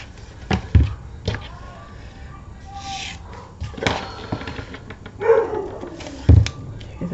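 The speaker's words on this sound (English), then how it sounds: "There my dogs go now, because they've also heard them." Dogs bark in sharp, scattered bursts at passing scrap metal collectors, a few loud close barks separated by quieter gaps and some more distant yips.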